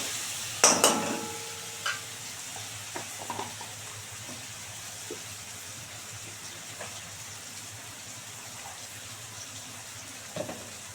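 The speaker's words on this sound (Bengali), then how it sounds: "দিয়ে এটাকে খুব সুন্দর করে কষাতে হবে" Spice paste stir-fried in a pan for a tengra fish curry, opening with a loud clatter of utensil on pan, then quiet intermittent scrapes and soft sizzling, close, without speech.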